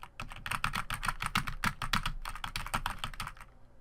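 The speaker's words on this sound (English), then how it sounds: "you're hearing me furiously hit the keys because I'm trying to get some combos going" Rapid, furious clatter of computer keyboard keys during an indie game, Iron Snout, dense bursts of close key presses with no talking.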